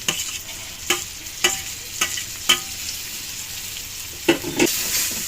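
Tomatoes tipped into hot oil with ground cumin in a home kitchen pan, giving a steady sizzle broken by sharp scraping stirs and clatter at irregular intervals, close and fairly loud, with no talking.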